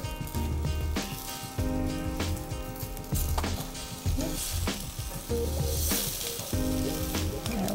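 Rainbow trout sizzling steadily on a hot grill just after being flipped, a loud continuous crackling fry with small pops and some faint clinks, no voices.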